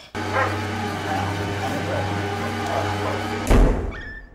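A dog in a horror film barks and whimpers over a low droning hum, yips and whines running for a few seconds before a sudden thump cuts them off.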